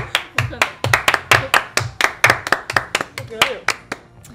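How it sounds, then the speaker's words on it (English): A group claps in quick, irregular bursts, about twenty sharp close hand claps in four seconds that thin out toward the end. "Everybody clap your hands!"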